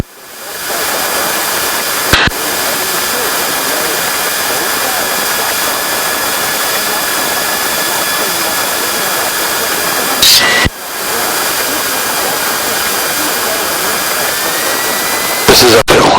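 Steady loud engine roar from a Cessna 340 twin-engine aircraft taxiing on the ground, a continuous drone that swells briefly with a few short bumps and clicks, with radio or cockpit chatter faint underneath.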